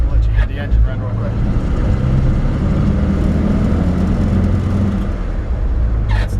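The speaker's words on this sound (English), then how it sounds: "I'll let you hear the engine run real quick." A 1953 Ford F-100 barn-find truck engine running, a steady low rumbling drone held close and loud for several seconds, with brief voices at the start and end.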